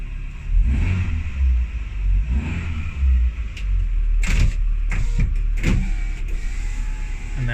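Renault Twingo engine idling with an aftermarket Ramair intake fitted in place of the stock one, heard from inside the car as a steady low hum with a few brief clicks and thumps partway through.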